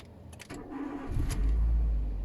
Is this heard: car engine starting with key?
yes